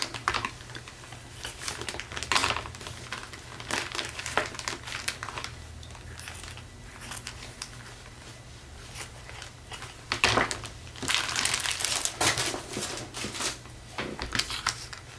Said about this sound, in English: Got my cheesecloth here. Get this out, maybe rip this a little bit.